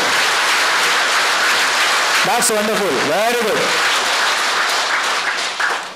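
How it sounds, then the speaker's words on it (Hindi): A yoga group claps with hands raised overhead, a steady broadband patter of many hands continuing throughout while an instructor's voice speaks over it. "हाथ सिर के ऊपर लेके ताली बजाए।"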